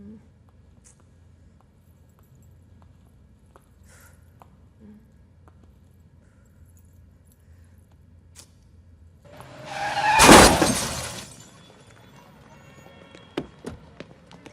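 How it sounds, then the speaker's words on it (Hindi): A car crashes into another car in a sudden loud broadband burst lasting about a second, with skidding noise around it, then quiet street ambience returns with a few small knocks. "और दिखाई नहीं देता, गाड़ी ठोक दी मेरी।"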